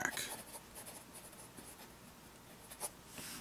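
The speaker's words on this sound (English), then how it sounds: "you can probably hear just a little bit of feedback, which I would expect with a finer nib on a pen" Fine fountain pen nib scratching across paper, with faint, quick strokes and soft scratchy feedback, close and quiet.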